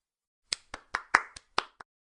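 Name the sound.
hands clapping sound effect in a story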